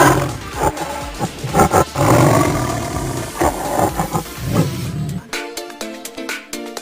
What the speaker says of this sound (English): tiger, tiger,